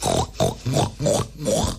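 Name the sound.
imitated pig grunt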